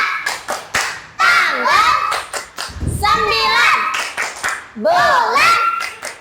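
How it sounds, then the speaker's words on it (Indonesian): Young children in an Indonesian classroom chant and clap a day-name clapping rhyme for Friday, with sharp hand claps punctuating their lively, sing-song voices close by. "Yuk kita tepuk nama hari dulu ya."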